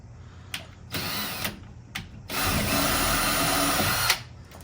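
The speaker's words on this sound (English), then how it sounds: "I'm gonna drill a hole." Power drill boring a pilot hole while a chicken brooder is being built, two bursts: a short whirring run followed by a longer, steady loud drilling stretch, close by with no talking.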